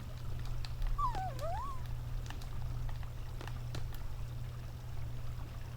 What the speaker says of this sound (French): On entend le petit chien.